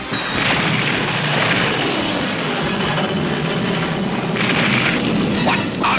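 A cartoon missile launches with a loud, sustained roaring blast that fills about six seconds, rumbling and hissing without a break.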